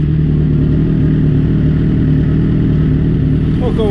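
A Suzuki GSX-R 1000 K9 motorcycle engine idles steadily at close range, a loud, even low rumble with a constant firing pulse that holds throughout.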